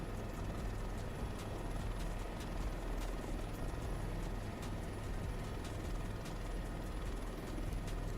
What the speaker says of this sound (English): Okay, so here it is with helicopter noises in the background.